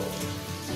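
Steady broadband hiss of rain falling, close and fairly loud throughout, with no voices over it.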